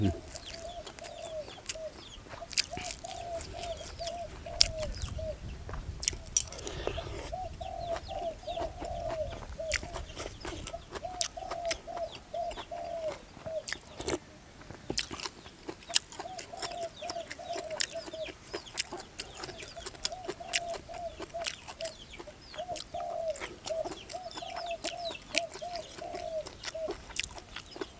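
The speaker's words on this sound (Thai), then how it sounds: "เสียงนกเขากับขันดีดิ" Doves coo in repeated soft, hollow phrases at a moderate distance, over a background of scattered clicks and rustling.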